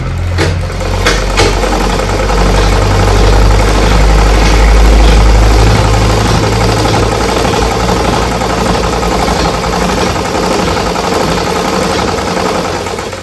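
A sewing machine stitches a cross-cut blouse, giving a loud, continuous mechanical whir that stays steady throughout with no pauses or talk.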